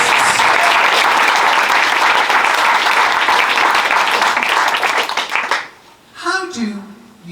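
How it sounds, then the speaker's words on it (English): Audience at a conference on sexual health applauds panel guests, loud sustained clapping for several seconds that tapers off, followed by a brief voice. "So please a round of applause for my amazing panel of guests"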